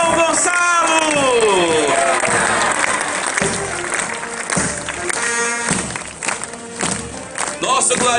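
Festival crowd at a São Gonçalo celebration in the Piauí backcountry, cheering and clapping loudly and steadily throughout, with a voice rising over the noise and brief dips in the applause.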